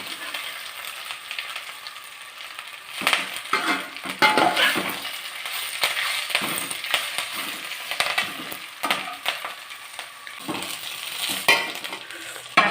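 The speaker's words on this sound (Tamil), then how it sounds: "இப்படி லைட்டாக எண்ணெயில் வதக்கிட்டு" Curry leaves sauté in oil in a pan, giving a steady crackling sizzle broken by scraping, stirring strokes, close and continuous with no talk.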